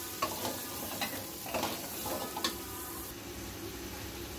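Bottle gourd fries with catfish and spices in a pan, a moderate steady sizzle broken by a few scraping stirs, quiet and close, with no talk.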